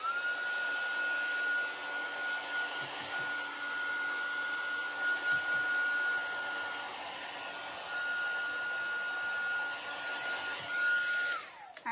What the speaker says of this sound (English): I'm gonna use my little handy dandy dryer again to get this dry